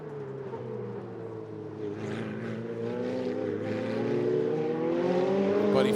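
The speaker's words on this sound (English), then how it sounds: "Everybody feathering those throttles, exiting that hairpin, not wanting to grab too much too early here" Ferrari Challenge Trofeo Pirelli race cars accelerate out of a hairpin at Sonoma, a loud, continuous engine roar whose pitch climbs steadily as the throttle opens, building toward a crescendo.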